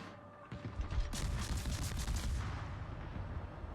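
A warship's many slow-reloading guns fire in a naval combat video game: a sharp salvo blast followed by a dense, roaring volley of overlapping booms that fades into a lingering rumble.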